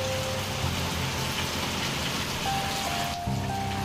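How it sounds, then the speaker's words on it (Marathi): A heavy downpour falls across Sangola taluka, a steady broadband roar of rain with a faint engine-like hum running beneath it. "सांगोला तालुक्यात मागील 4 तासापासून मुसळधार पावसाला सुरुवात झाली"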